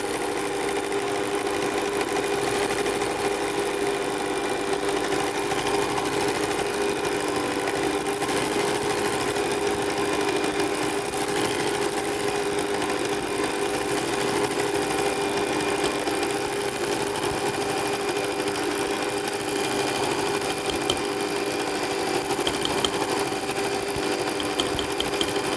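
An electric mixer beats butter and sugar for a Sri Lankan butter cake, giving a constant mid-pitched motor whir with a faint rattle that holds steady and close throughout, with no voices.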